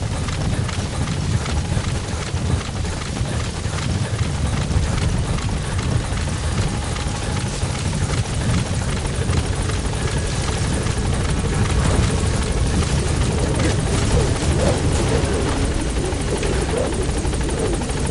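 The Pequod helicopter in a video game drones steadily and loudly for the whole stretch, a dense rotor thrum with no pauses.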